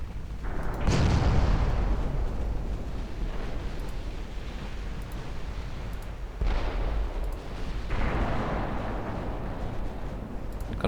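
Naval guns firing in Ultimate Admiral Dreadnoughts: heavy booming salvos, one near the start and two more later, each rolling into a long low rumble that decays over several seconds.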